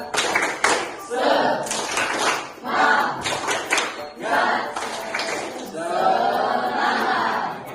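A school class performs a rhythmic clapping chant, with bursts of quick, sharp group claps in a patterned beat alternating with children's chanted voices, close and lively.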